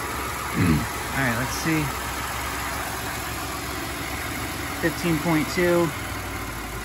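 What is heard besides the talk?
Ford F150 truck engine idling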